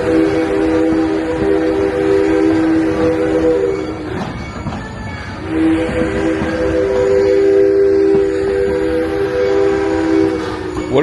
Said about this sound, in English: Most parks don't have a real working steam locomotive.